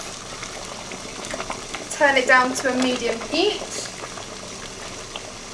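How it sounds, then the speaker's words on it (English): A pot of water at a rolling boil on a stove, a steady bubbling wash heard at moderate level while a person talks over it about turning the heat down. "the water has come to a boil"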